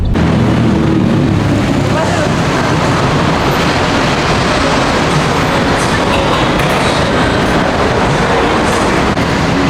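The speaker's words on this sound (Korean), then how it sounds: "지하철 타고 갑니다" A train rolls through Bangkok's subway system with a steady, loud rumble and rattle throughout, heard close from inside the carriage with no break.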